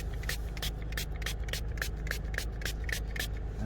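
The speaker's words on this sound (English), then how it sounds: "We're gonna spray more" Soapy water is sprayed from a hand spray bottle onto a Tacoma's instrument cluster, heard as a steady run of about fifteen quick, evenly spaced trigger squirts over a low background hum.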